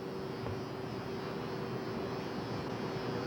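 A one-third scale Nieuport 17 model aircraft flies overhead, its engine a steady, even drone with a constant tonal hum, moderately distant and alone without voices.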